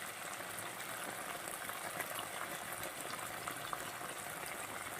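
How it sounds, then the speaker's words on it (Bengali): Katla fish heads with cabbage, tomato, salt and turmeric cook in a pan, giving a steady, fairly loud hiss and bubbling sizzle throughout, with no voices. "পুরো সুন্দর করে এটাকে কষাবো"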